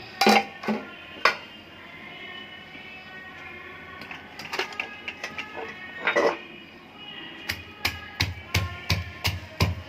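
Sharp metallic clanks come from a brass mortar more than fifty years old, pounding green chili, pepper, cumin, fennel, garlic, shallots and turmeric. Some strikes land irregularly at first, then a quick, steady run of ringing hits follows near the end.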